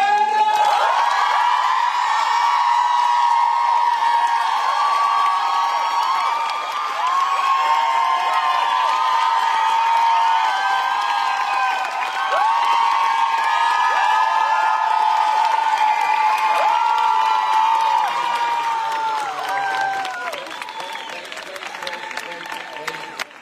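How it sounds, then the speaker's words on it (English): A theater crowd at the ENGLOT fan meeting in Barcelona cheers and applauds: sustained, loud, high-pitched screams and whoops from many fans ride over steady clapping, easing slightly near the end. "Big applause for it!"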